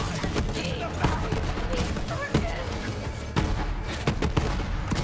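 Grenades explode in Borderlands 3 in a quick run of sharp blasts over constant loud combat noise, with a person talking over it.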